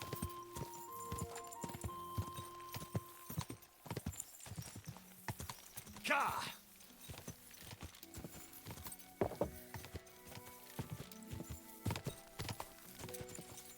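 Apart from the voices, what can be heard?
horse hooves clip-clopping in video game Kingdom Come 2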